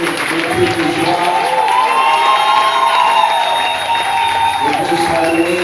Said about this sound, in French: On acclame encore plus fort.